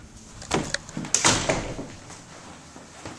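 French doors in a newly carpeted room of a home for sale in West Palmdale being closed: a few close wooden knocks and latch clicks in quick succession, then quiet room tone.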